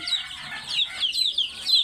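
Pahari hill-breed desi chickens cluck nearby in short, repeated high calls, several close bursts with quiet gaps and no talk.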